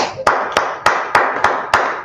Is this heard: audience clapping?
yes